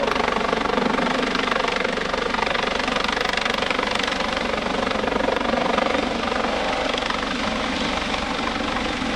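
A US Coast Guard search-and-rescue helicopter hovers close overhead at an airshow demonstration, its loud, steady rotor and turbine roar continuous and unbroken throughout.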